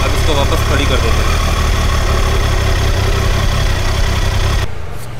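A motorbike engine idles at a steady, loud, unbroken rumble after a short ride around a residential colony, then cuts off abruptly near the end.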